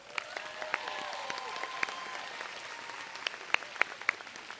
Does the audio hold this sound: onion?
no